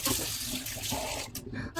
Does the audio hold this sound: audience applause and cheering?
no